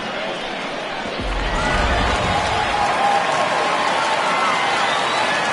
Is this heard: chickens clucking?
no